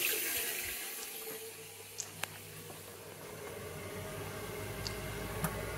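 A hot water tap runs steadily at a domestic sink, a soft continuous hiss of flowing water with a few faint clicks, heard fairly quietly.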